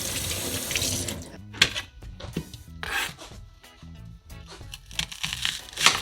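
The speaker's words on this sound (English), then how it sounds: "And then you're gonna wash your onion now" A kitchen tap runs into a sink while an onion is rubbed and washed under it, close splashing water broken by scrubbing and squeaking handling sounds, with no talk.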